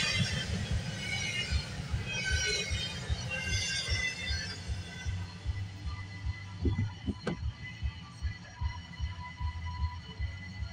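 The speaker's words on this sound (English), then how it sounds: "Here's the end of that train" A long freight train rolls past a grade crossing, its final cars rumbling and clanking rhythmically over the rails, with a short metallic squeal or horn-like tone partway through; steady and moderately close.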